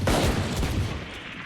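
Rapid gunfire from an esports deathmatch in a video game, a dense burst of overlapping shots crackling loudly for about a second and a half with no talk.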